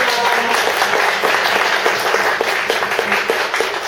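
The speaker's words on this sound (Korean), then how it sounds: "뜨거운 박수 부탁드립니다" Warm audience applause follows a lecture at a Korean community talk event, a dense, loud, continuous clapping wash that holds evenly throughout.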